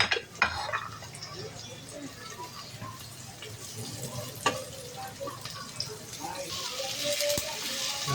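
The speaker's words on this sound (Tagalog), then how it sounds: "Gigisa na po natin. Bawang lang sa adobo." Garlic sautéing in a pan for adobo, a low sizzle under clinks and scrapes of a utensil against the pan, with background talk throughout and a brief bright metallic ring near the end.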